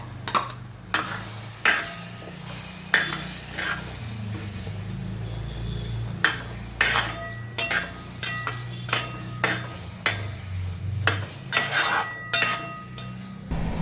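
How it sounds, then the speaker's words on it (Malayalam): Jaggery and jackfruit get stirred in a pan: a spoon scrapes and knocks against the metal in repeated strokes, the knocks coming faster toward the end, over a soft low sizzle. "ഇനി നമുക്ക് ഈ ചക്കയിലേക്ക് കുറച്ച് ശർക്കര കൂടി ഇട്ടിട്ട് ഒന്ന് നന്നായിട്ടൊന്ന് ഇളക്കി കൊടുക്കാം."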